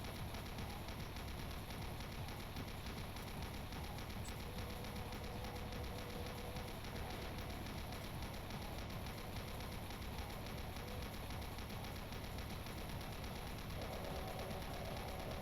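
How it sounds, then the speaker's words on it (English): A chain gun fires in a Doom stronghold fight, heard as a faint, rapid, continuous rattle of shots running steadily under a dense, low background roar with no voices. "Maybe I should just chain gun the specters down because I do have enough ammo for it."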